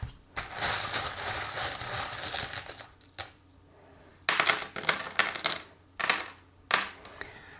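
Small metal divination charms are cast onto a hard surface, producing bursts of rattling, clinking and tumbling that scatter, settle and then repeat several times, close and bright, with brief quiet gaps between throws.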